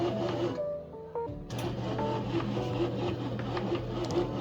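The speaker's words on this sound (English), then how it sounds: "Now I recorded the bread machine working at various stages." Bread machine kneading sourdough dough, a steady mechanical whirring with rhythmic knocking and rattling as the machine shifts on the counter, loud and close with no voices.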